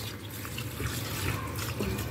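Rice is rubbed and rinsed under cold running tap water in a kitchen sink, a steady splashing gush with small sloshes from the grains and hands, no speech.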